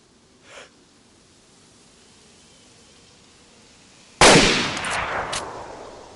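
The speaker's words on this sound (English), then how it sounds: "I don't know whether I'm shooting too high or too low" A sharp, loud gunshot burst in DayZ rings out after a long quiet stretch, followed by a couple of trailing shots and a fading echo, with a faint thump early on and no speech.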